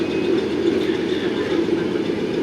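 A modified semi truck's V8 engine at a truck pull gives a loud, steady low rumble with a rattly, throbbing texture that runs unbroken throughout, close by and with no voices.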